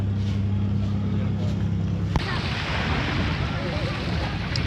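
A cool wind blows across a tour boat in Ha Long Bay, Vietnam, making steady loud buffeting on the microphone over a low rumbling hum, with the roar growing rougher after a brief knock midway.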